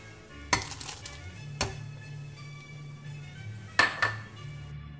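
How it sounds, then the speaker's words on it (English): Ramen ingredients for a simple miso ramen with pasta dropped into a cooking pot, heard as a few sharp metallic clanks and clinks of utensils against the pot, spaced apart over a quiet low hum. "we just got the first batch to put in the pot"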